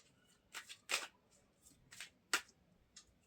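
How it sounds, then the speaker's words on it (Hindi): Tarot cards being shuffled and drawn for a reading, heard as several short crisp riffling bursts with quiet pauses between, close and fairly soft with no voices. "Please give me 3 cards for the outcome of this situation."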